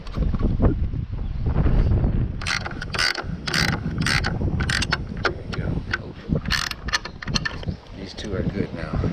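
A ratchet tightens the final locking nut on a boat in wind, its rapid metallic clicks coming in bursts over a constant roar of wind and low rumble.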